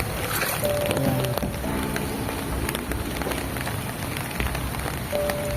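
Steady rain pours and splashes on surfaces and standing water outside a flooding house, a dense continuous hiss with brief faint tones.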